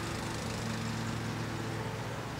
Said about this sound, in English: My neighbor is mowing his lawn, so we've got that great thing going on.